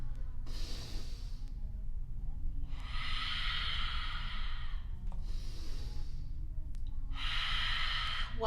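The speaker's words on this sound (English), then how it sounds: "Let's do 3 big breaths." Children's yoga session with three big deep breaths, each a long breathy inhale and exhale through the mouth, evenly spaced and close, with quiet pauses between and no talking over them.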